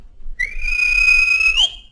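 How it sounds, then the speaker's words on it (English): A railway guard blows a single sharp, shrill whistle, held steady for about a second and a quarter before it bends and cuts off, loud and close against near silence. "the guard whistled"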